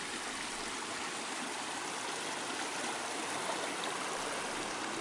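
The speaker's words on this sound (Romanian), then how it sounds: "traversăm un fir de apă pe un podeț de lemn" A small mountain stream in the Ceahlău massif flows near a wooden footbridge on a hiking trail, giving a steady, close, broadband rush and trickle of water with no voices.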